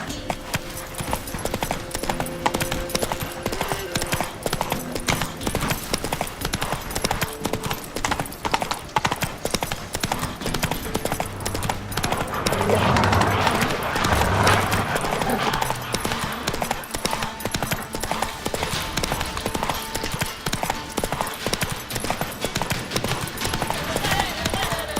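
A galloping horse in the video game The Witcher 3 Wild Hunt produces a fast, continuous clip-clop of hooves throughout, with other game sounds mixed in.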